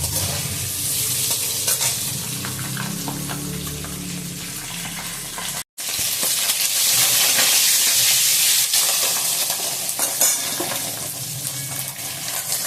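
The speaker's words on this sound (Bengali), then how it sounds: "ডিমটা আমার ভাজা হয়ে গেছে" Steady, loud sizzling of duck eggs frying with stirring scrapes, broken by a brief silent gap midway, then the hiss resumes strongly; no talking.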